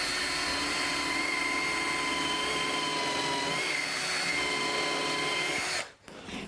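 Power drill driving a 3.5-inch screw into wood framing for a chicken coop, a steady loud whine held for several seconds before cutting off abruptly, close with no talk.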